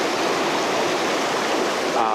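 Stream flowing through a valley lined with small-leaved alder trees in Cyprus, a steady, loud, broadband rush of water that holds constant throughout, close by with no clear talk.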